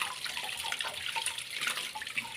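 Guava leaves being washed by hand in water, with a steady splashing and running-water rush throughout, close and moderately loud.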